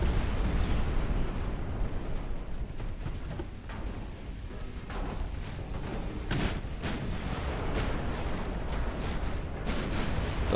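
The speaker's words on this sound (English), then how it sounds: "And there's the torpedo." Dull booms and bursts from a British 1900 warship battle in Ultimate Admiral Dreadnoughts as torpedoes launch, with steady low rumble and several sharp transients standing out above it, no voices.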